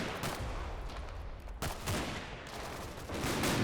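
Sustained Combat Mission: Battle for Normandy gunfire crackles in dense volleys of rifle and machine-gun shots, layered and continuous with brief lulls between heavier bursts.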